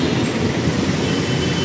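An LRT light rail train passes close by in city traffic, a loud continuous rumbling roar of wheels on track with no pauses.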